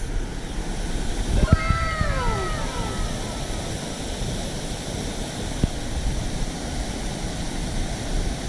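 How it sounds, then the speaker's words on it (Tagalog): Awaw Falls in Monkayo, Davao de Oro, gives a steady broadband rush of falling water. A brief cat-like cry rises over it near the start. "welcome sa Awaw Falls"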